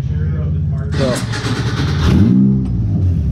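An off-road buggy in the Glamis sand dunes revs its engine and pulls away, a loud, close engine burst that swells and fades, with someone talking over it.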